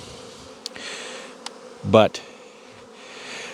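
Bees buzz near their hives in a sheltered spot with south exposure, a low steady hum with insects passing close by, one brief loud buzz up close, and a single word spoken.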